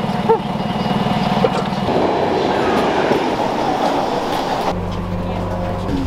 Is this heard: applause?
no